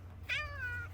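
A single kitten's meow, drawn-out and close, rising then falling slowly over a low steady hum in a cold outdoor setting.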